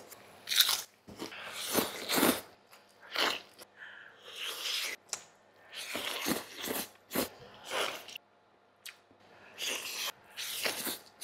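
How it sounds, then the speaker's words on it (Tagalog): Someone eating a breakfast of eggs, luncheon meat and noodles, with close, loud bites and crunchy chewing in irregular bursts separated by brief pauses, no talking. "Tutuloy ko na yung kain ko."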